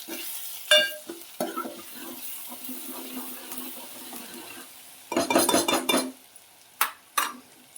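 Tomato masala with red chili powder, turmeric and salt being stirred in a pan for a spicy black chicken curry: scattered spoon taps and scraping over a soft sizzle, then a loud, rapid run of metallic clatters and a few final knocks.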